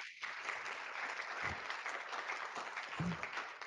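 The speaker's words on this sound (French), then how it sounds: "On peut vous applaudir, merci aux intervenants." An audience applauds the speakers at a French conference session on regional access to healthcare. The clapping is steady, dense and fairly loud for the whole stretch, with no talk over it.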